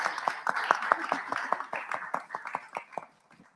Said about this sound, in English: Please give a round of applause for Elischa.